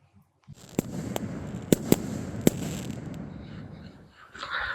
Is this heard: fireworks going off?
yes